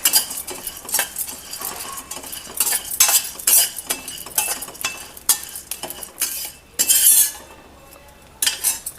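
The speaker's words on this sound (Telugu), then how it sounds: "జస్ట్ డ్రై రోస్ట్ చేయాలి. ఫస్ట్గా సన్ఫ్లవర్ సీడ్స్, గుమ్మడి గింజలు," Sunflower and pumpkin seeds dry-roasted in a pan without oil or ghee: a spoon stirs and scrapes them around steadily, with rattling and clinks against the metal pan, heard close and with no voice.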